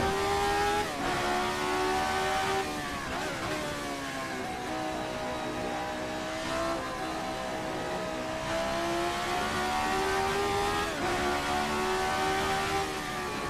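RSS Formula 79 race car engine in a video game, revving steadily through rising pitch sweeps with several gear changes, loud and close with no talk.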